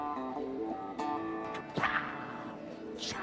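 An electric guitar through a Casio effects pedal that follows the player's movements: several short tonal notes with a processed, shifting quality, followed by a sharp swishing burst and a few higher warbling tones, fairly quiet.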